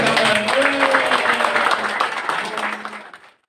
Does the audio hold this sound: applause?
yes